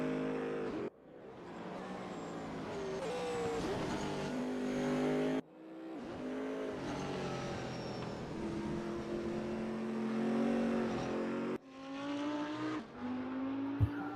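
An Audi R8 LMS GT3 race car in RaceRoom, heard onboard as a droning engine that rises through the revs, cuts sharply on upshifts and climbs again, loud and continuous with no talking.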